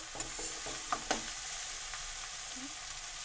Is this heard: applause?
no